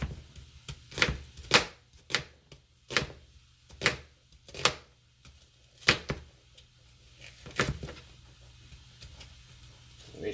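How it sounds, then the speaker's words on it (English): Knife chopping an onion on a cutting board, a series of distinct crisp thumps at an irregular pace, close and fairly quiet with no talking. "Now we're going to cut up our onion."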